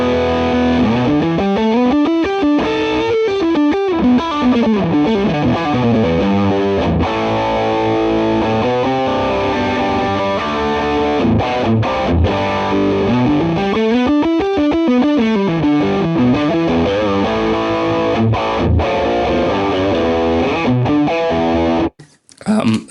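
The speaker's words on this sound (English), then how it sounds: "if we just boost the distortion levels, this would be kind of lead tone" Electric guitar with a boosted-distortion lead tone from a modeler on the bridge pickup plays a loud, sustained melodic line with sweeping bends and runs, cutting off abruptly at the end.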